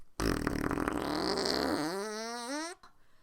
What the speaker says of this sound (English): Forkbeard rolled over and did a loud fart.